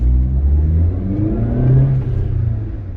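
A 2005 Mitsubishi Pajero TR4 pulls away from a standstill in low range, its engine droning loud and close for about three seconds, the pitch climbing steadily as the revs build, with no voices over it.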